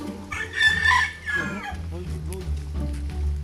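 A rooster crows loudly once close by, a ringing drawn-out call, followed by softer clucking and a low background hum.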